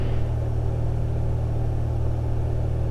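Steady drone of a light aircraft piston engine held at a 2,300 RPM cruise on a warm day, a constant low hum with stable harmonics, loud and continuous with no talk.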